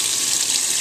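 Water from a tap pours steadily into a tub being filled to rinse cloth diapers, a constant close hiss and splash with no voices.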